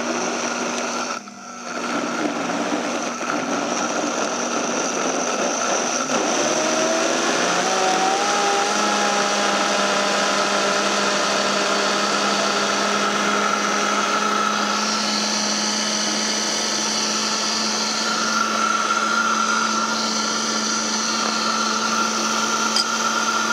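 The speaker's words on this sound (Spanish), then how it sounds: "esta licuadora, como es de alta velocidad, muele bastante rápido" A high-speed blender runs continuously for over twenty seconds, blending a dairy-substitute mixture in a loud, steady whine whose pitch rises and shifts slightly as the contents thin out. No one speaks over it.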